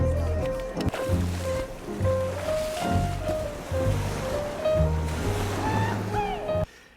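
Ocean waves and surf rolling steadily, loud and close, with a continuous watery wash that swells and recedes in repeated surges.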